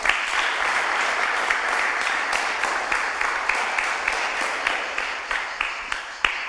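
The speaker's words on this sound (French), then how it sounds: "j'aimerais qu'on applaudisse encore" A television studio audience applauds continuously, thick even clapping that holds strong throughout and thins slightly toward the end, with a few louder single claps near the close.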